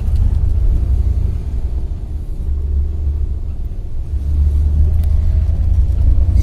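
A car climbs a steep road up to Jakhoo Temple in Shimla, its engine a heavy, steady rumble heard from inside the vehicle, loud and continuous with slight surges, no talking.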